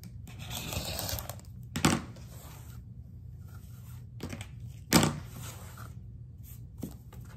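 Rotary cutter slicing through a quilt block along a ruler, a few sharp scraping strokes separated by quiet handling sounds, close and faint.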